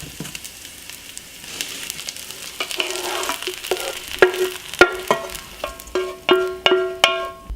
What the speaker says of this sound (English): I'm going to mix our browned cauliflower in with our pasta.